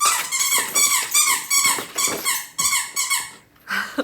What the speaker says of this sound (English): is playing with her squeaky toy.